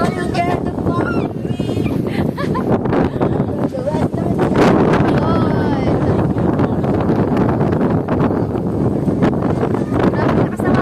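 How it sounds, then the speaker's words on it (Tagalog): Strong gusts at Cloud 9 in Antipolo buffet the microphone with a loud, continuous roaring rumble that never lets up, with voices faintly mixed in. "Grabe, lakas ng hangin."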